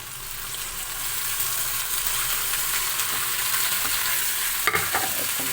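Okra sautéing in a pan with salt, giving a steady broadband sizzle and frying hiss with stirring scrapes, close and continuous, and a couple of sharper utensil clicks near the end.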